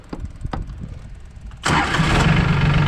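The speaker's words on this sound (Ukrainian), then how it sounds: "Тракторець працює." A few quiet knocks and clicks, then a Solis 26 diesel mini tractor engine cranks and catches after a fuel filter change, settling into a loud, steady rattling idle nearby.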